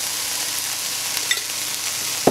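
Chicken filling with chilli powder and garam masala sizzles in a pan over medium heat, a steady close frying hiss with a few light clicks and one sharp knock of a utensil at the end.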